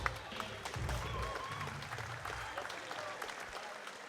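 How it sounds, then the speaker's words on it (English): A crowd at a Muay Thai fight event applauds in a dense, steady wash of clapping, fairly faint and distant, with a low rumble of arena noise beneath. "Ladies and gentlemen, a massive round of applause for both men"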